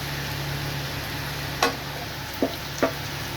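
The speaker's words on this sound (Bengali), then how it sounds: "এটাকে একটু ভালো করে আমি ফ্রাই হতে দেব, মশলাটা ফ্রাই হতে দেব" Spice paste frying in oil for egg korma gives a low, steady sizzle, with three short clicks of a spoon or spatula against the pan standing out near the end.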